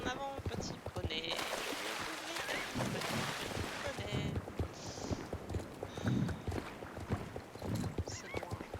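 Pony hooves gallop across terrain in Star Stable Online, a quick steady clip-clop rhythm with a brief whinny and splashy passages, heard under French-speaking commentary.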